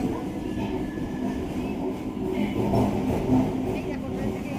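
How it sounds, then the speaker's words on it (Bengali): A local train runs on the Majharhat railway line, its steady wheel rumble and carriage rattle rising slightly midway, close and continuous with no clear break. "ট্রেনের আওয়াজও শুনতে থাকবো"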